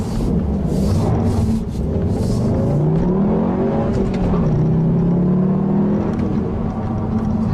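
A 2014 Volkswagen GLI engine pulls steadily under acceleration on the autobahn, its droning pitch climbing and settling, with a continuous whirring tone and no talking.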